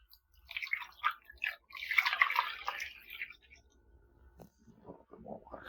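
Water poured from a container into a large pot holding chicken for soup, splashing and trickling in a few uneven bursts, close and fairly quiet.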